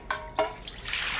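Strained liquid being poured into a container in a restaurant kitchen: a brief, faint trickle and splash, with a couple of soft knocks just before it.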